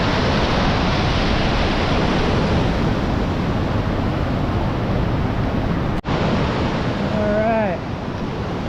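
Rushing water at the Little Niagara waterfall pours in a loud, continuous broadband roar; a brief cut interrupts it and a voice murmurs near the end.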